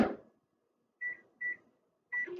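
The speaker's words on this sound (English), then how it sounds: "I'm going to microwave it for just a few seconds just to make it a little soft and runny" A microwave oven heats a s'mores mug cake: a dull knock, then three short, clear electronic beeps spaced about half a second apart, close and isolated in silence.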